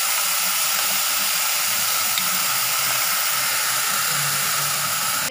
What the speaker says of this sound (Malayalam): ഇനിയിപ്പോൾ ഞാനിത് ഈ പാനിലേക്ക് ഇടുകയാണ്